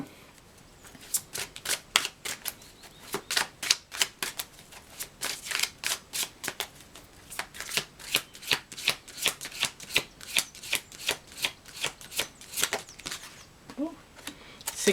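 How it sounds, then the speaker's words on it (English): Tarot cards being shuffled by hand, a long run of quick crisp riffling bursts in a steady rhythm, close and fairly quiet, with no talking. "Okay, let's get you a tarot card."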